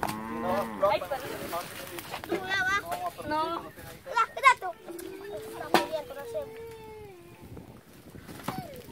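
Cows moo in long, drawn-out calls on a rural farm in El Salvador, fairly close, while children and adults talk and play nearby.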